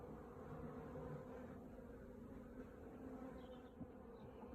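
Honey bees swarm and buzz at the entrance of a newly settled hive, a steady, close, continuous drone of many insects with no voices over it.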